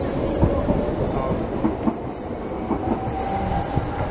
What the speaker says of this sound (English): Here's a train to Canning Town